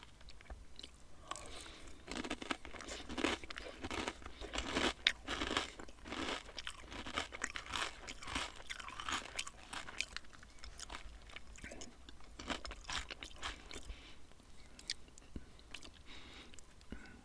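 Close, intimate crunching and chewing of Froot Loops cereal, a steady stream of crisp bites and wet mastication that continues throughout with only faint whispering beneath.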